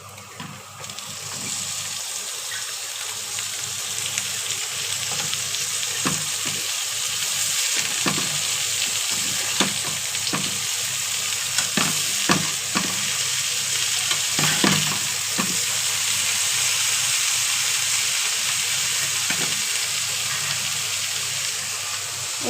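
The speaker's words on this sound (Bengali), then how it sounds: "এখন আমি ভাজবো করলা।" Bitter gourd hits hot oil with onion, green chili and cumin, making a loud, continuous close sizzle broken by occasional stirring clatters.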